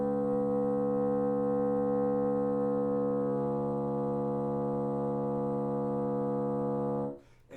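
A hollow multiphonic on a reed instrument, played a little higher on the reed with a firmer embouchure, one long steady tone whose upper partials brighten partway through, held about seven seconds before cutting off.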